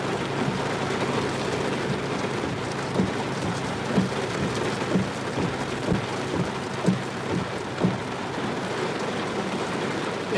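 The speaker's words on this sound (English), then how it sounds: "It is raining hard outside, man. This is no joke." Heavy rain pounds on and around a car at night, a dense, steady roar with a few louder thumps of drops hitting the roof, close and unbroken, with no speech.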